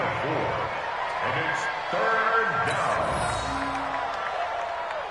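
A stadium crowd in a PS4 American football game roars steadily for a big third-down play and swells slightly midway. Faint thumps and whistles mix in, and a commentator talks over the noise.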